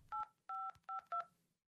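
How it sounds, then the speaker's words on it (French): Four short, clean touch-tone beeps sound at an even pace as a number is keyed on a mobile phone, close and alone. "Elsa compose un numéro sur son portable."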